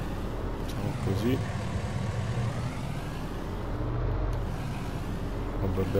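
Tractor engine in Farming Simulator 19, a continuous low rumbling drone with faint rhythmic knocking, steady and close throughout, with speech over it.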